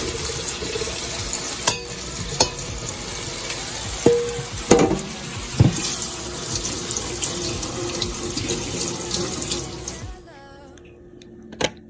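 Cold tap water runs steadily over drained pasta in a kitchen sink while pasta is rinsed, with a few clatters and knocks of pasta and colander. The water cuts off near the end, leaving quiet room tone.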